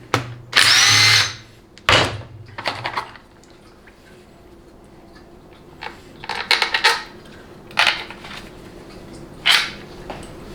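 A power tool drives out the Torx 30 filter bolts on a Dodge 48RE transmission, giving short loud whirring bursts with pauses, plus small metallic clinks as bolts drop.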